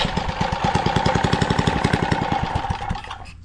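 A small engine with a new carburetor, given a shot of carb cleaner, runs loud and close with a fast, even, knocking putter for a few seconds before cutting out abruptly.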